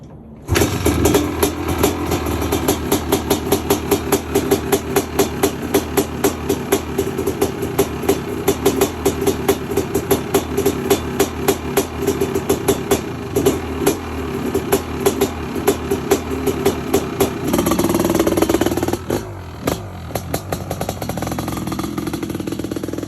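An HRC-tuned Honda CR 500 two-stroke motorcycle, an older dirt bike, fires up and runs with a loud, rapid, steady popping beat that shifts near the end, close by and with little talk.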